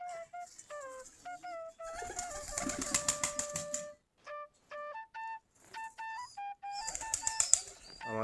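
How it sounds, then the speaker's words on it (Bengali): Local Giribaz pigeons flutter and flap near their coop in bursts of wing clatter, mixed with sharp whistling and chirping tones that start and stop throughout, fairly close and without talk. "আমাদের দেশি গিরিবাজ কবুতরও ওই যে আমাদের খোপের কাছে অনেকগুলা চলে গিয়েছে।"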